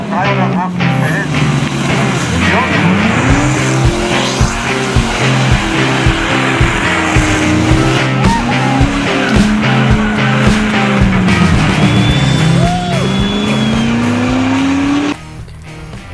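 A 1984 Mercedes-Benz R107 500SL with a 380 hp V8 is driven hard, its engine revving loudly and continuously with repeated tire squeals across the run, with voices talking over it.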